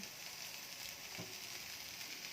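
Steady, faint sizzle of food frying in a pan, a continuous crackling hiss with one brief knock partway through.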